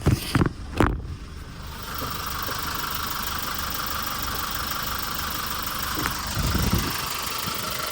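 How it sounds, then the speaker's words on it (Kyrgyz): A 2019 Hyundai Porter truck with a manual gearbox idles steadily close by, its even diesel-like rumble continuous after a few sharp knocks at the start, with a slight swell near the end. "Мынакей, достор, мотор сонун болуп иштеп турат"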